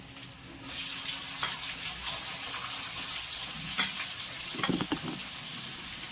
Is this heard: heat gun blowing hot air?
no